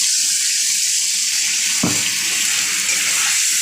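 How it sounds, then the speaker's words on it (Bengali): Water poured into a pan of potato and paneer curry makes a steady rushing splash close by, with a brief heavier gush partway through, and no voices. "তো জল দিয়ে দিলাম"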